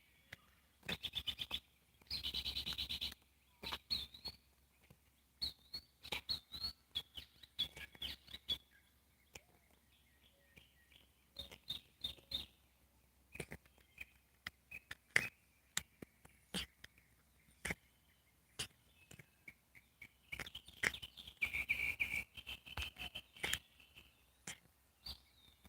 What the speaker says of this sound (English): I don't know if y'all can hear the birds or not.